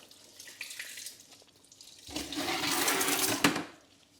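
Water runs from a tap while carpet-cleaning equipment is washed in a carpet laundry. A quieter trickle becomes a strong, steady rush about halfway through, with a brief splash near the end. No one speaks.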